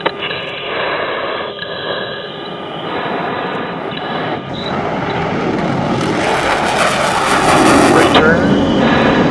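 A US Air Force Thunderbirds jet on its takeoff roll and climbing airborne, a loud, steady roar of engine and afterburner that swells and brightens toward the end, with talk over it.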